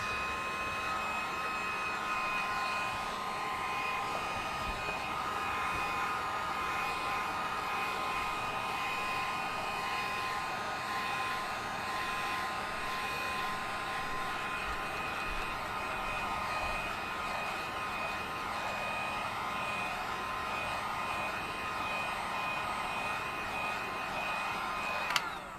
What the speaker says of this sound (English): Pull out my heat gun.